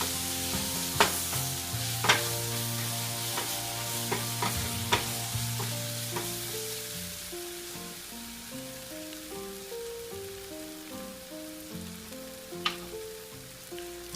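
Tomatoes cook in a pan for a goat liver fry. A soft, steady sizzle is broken by a few sharp clicks from stirring, with background music playing underneath.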